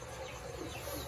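A chicken on a farm clucking briefly amid a noisy, busy background with no clear talk.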